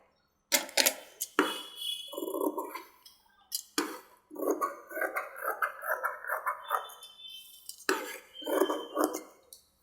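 Scissors cut through doubled fabric for a puff sleeve, making a series of crisp, close snips in irregular bursts separated by short pauses.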